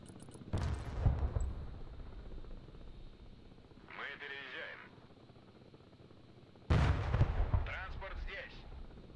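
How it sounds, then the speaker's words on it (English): Abrams tank gunfire in the video game Broken Arrow, with two loud booming blasts several seconds apart, each trailing into rumbling echoes, and a fainter whooshing burst between them. "Oh, that Abrams is shooting at my VDV right now."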